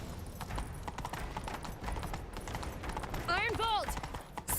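Horse hooves gallop in The Witcher 3 video game, a rapid, steady clip-clop running throughout at close range, with a short whinny rising near the end over faint background voices.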